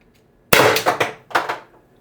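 A Byrna LE launcher fires a 7.3 g Alien Play round with a sharp, loud pop. A second clattering impact follows about a second later, with no talk.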